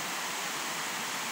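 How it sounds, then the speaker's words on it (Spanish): Steady broadband rush of a river waterfall cascading below a bridge, a dense continuous roar heard from above with no voices over it. "la chorrera del río"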